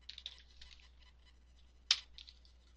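Brief burst of typing on a computer keyboard, a handful of light, quick key clicks followed by a pause, then one sharper, louder keystroke and a few more soft taps, close and quiet in a still room.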